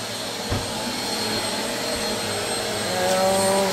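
A vacuum cleaner runs steadily near a pet groundhog indoors, a continuous droning whine with a few soft bumps, holding loud and close throughout.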